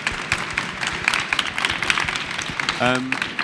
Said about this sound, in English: Ladies and gentlemen, a round of applause for our fantastic panellists today.